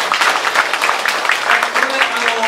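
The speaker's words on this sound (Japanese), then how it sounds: "皆さんに、拍手をお願いしたいと思います。" A room full of people applauds at an Okinawa council report meeting, a continuous loud wash of clapping that runs throughout, with a voice faintly audible near the end.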